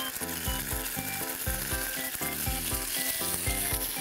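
Garlic and ketchup stir-fried in a pan for chili sauce, a steady sizzle that sits under louder rhythmic background music throughout.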